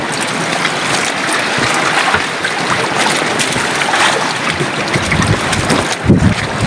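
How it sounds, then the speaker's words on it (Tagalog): Strong storm wind buffets the microphone near an island shore, with rough waves surging and crashing in a continuous roar that swells and drops; no voices. "Magkapamuti ang alon."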